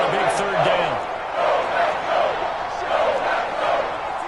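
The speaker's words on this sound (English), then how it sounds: "The crowd getting into it as we come up on a big 3rd down." Stadium crowd in a PS4 football video game building before a big third down, a continuous rumbling roar that swells and dips in waves, with a commentator talking over the noise.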